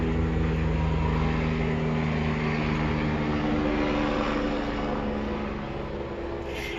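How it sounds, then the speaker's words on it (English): A neighbor's small propeller airplane buzzes low over a lakeside neighborhood, its steady droning engine loud and close throughout and fading only slightly toward the end. "there's a neighbor across the lake who's got an airplane, and every Sunday he comes over and he buzzes the neighborhood"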